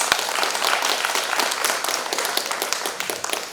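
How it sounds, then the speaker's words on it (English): An audience at the inaugural session of a literature festival claps for the dignitaries, a dense, steady round of applause filling the hall throughout. "May I request the audience to give a big round of applause for all our dignitaries"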